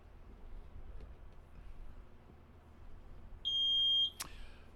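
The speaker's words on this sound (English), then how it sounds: "beeper has come undone, but I see you beeping back there" A quiz-competition buzzer gives a single steady electronic beep lasting about half a second, followed by a sharp click, against a quiet room hum at an academic challenge match.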